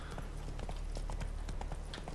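Horse hooves clip-clop at a steady rhythmic trot in The Witcher 3, evenly spaced thuds running throughout over a low steady game background hum, with no talk.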